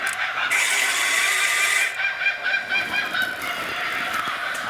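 Chickens cluck and squawk close by in a continuous, fairly loud chorus of bird calls, with occasional clicking mechanical noises mixed in.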